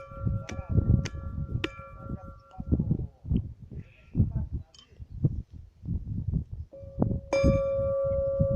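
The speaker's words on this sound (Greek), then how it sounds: "Εδώ είναι η καμπάνα." Church bell strikes ring out at a tree-planting event at Agioi Theodoroi, sounding several clear tolls over steady talk and crowd noise, with a sustained tone near the end.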